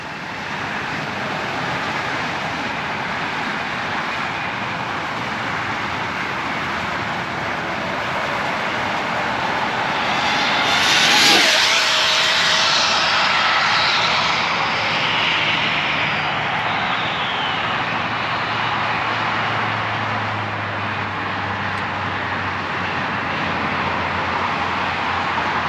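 RC car on a 146 mph speed run, a rising high whine that peaks as it rushes close past around the middle, then fades as it moves away.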